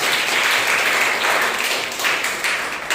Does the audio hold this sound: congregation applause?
yes